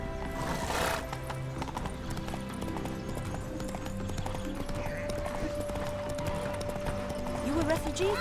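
Hooves of the horse Roach clip-clop at a gallop in The Witcher 3, steady and close, with a whinny and game music and effects layered over the hoofbeats.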